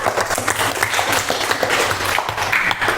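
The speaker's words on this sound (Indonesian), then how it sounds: "Beri tepuk tangan untuk Mbak Sophia." Audience members clap for a woman named Sophia at a classroom-style event, a short burst of uneven, fairly close hand claps with a low hum underneath.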